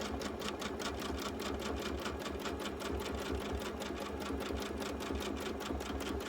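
A sewing machine stitches a baby quilt at a steady, even pace, its needle rattling in a rapid, constant rhythm close up with no talking.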